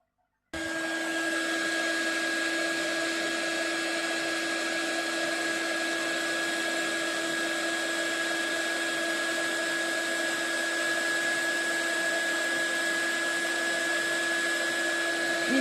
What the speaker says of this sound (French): je vais venir chauffer ça avec le heat gun